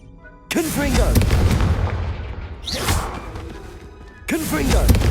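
Two Confringo fire-spell explosions in the Hogwarts Legacy video game, each a sudden loud booming blast with a whooshing roar that decays over a few seconds, the second following closely after the first.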